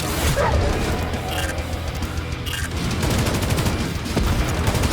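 Rapid, dense gunfire bursts in the video game Necromunda: Hired Gun over a loud, driving heavy metal track, continuous and busy throughout, with no clear talking.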